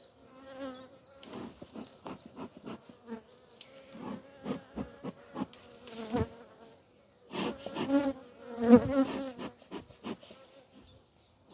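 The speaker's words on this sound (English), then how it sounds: "Now these bees are a bit angry because there is no queen." A dense, agitated buzzing of many queenless honeybees swells and fades close by, growing louder toward the end, with no talking.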